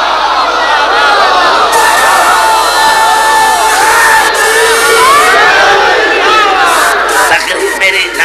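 A large crowd at a religious lecture gathering shouts and cheers loudly and continuously, many voices overlapping in a sustained roar of chanting with no pause.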